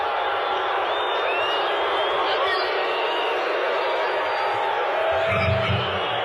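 A stadium crowd of 94,000 booing at a concert, a dense, continuous roar of massed voices from a distant audience with no breaks, steady throughout.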